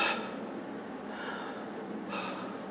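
A sharp breath drawn in through the nose, shown as the wrong way to breathe for meditation, heard as a few short airy hisses, close and alone, with no talking.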